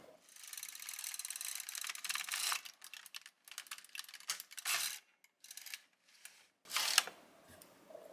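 An LK150 knitting machine carriage is pushed across the needle bed in several loud, rattling mechanical runs separated by short pauses, with no talking.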